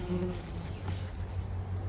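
A swarm of honeybees hums steadily at an open hive in late June, a continuous close buzzing drone that stays even throughout.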